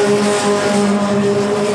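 Formula 3 race cars at Spa-Francorchamps during an FIA race, their engines a loud, sustained high-pitched drone that holds steady throughout with no break.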